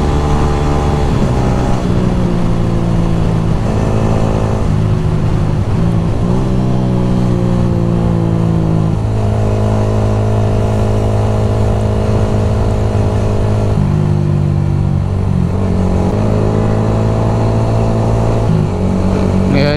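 A Yamaha Sniper 155R motorcycle rides along a road, its engine droning loud and steady with clear pitch rises and drops as the rider shifts and accelerates, plus constant wind noise and no talk.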